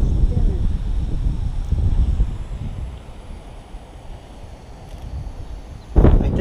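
Strong wind buffets the microphone at a coastal campsite, a continuous low rumbling roar that eases midway and gusts sharply again near the end.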